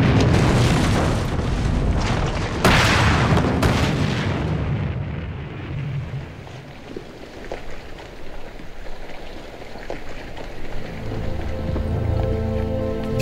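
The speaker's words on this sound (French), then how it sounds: "quand il fait un coup de canon, le 6e étage tremble" Heavy cannon shots built by a sound designer for a World War II documentary: loud booming blasts with thunderous rumble, a sharp second report, then a long rolling decay into a low, distant tail.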